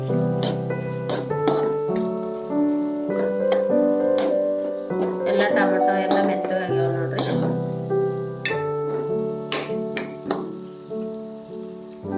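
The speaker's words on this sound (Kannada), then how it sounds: "ಒಂದು ಸ್ಪೂನ್ ಖಾರ ಒಣಗಿದ ಖಾರ ಹಾಕೊಂಡು ತಿರುಗಿಸ್ಬೇಕು" Dried chili powder sizzles as it is stirred and fried in a pan for cabbage palya. A spoon scrapes and clicks in irregular strokes under a voice and tonal background.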